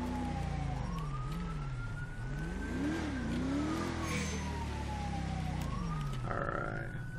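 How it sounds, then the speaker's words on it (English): A police siren in GTA 5 wails and sweeps up and down in pitch over a steady, loud engine roar and revving, with no voices. "I don't know who's running their siren."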